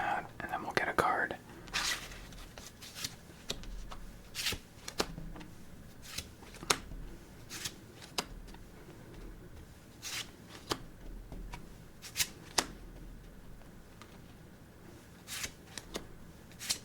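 Playing cards snap and slide on a table in a game of solitaire, sharp isolated flicks and placements spaced every second or so, close and crisp under soft whispered talk.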